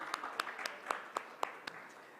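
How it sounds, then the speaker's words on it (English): An audience at a satellite communications conference claps as a session chair is called to the stage, faint and distant, with a light, regular patter of individual claps about a quarter second apart. "Round of applause, please."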